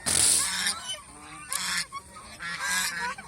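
Geese on a goose farm honk loudly and close by in several bursts, harsh calls overlapping in clusters with brief lulls between them.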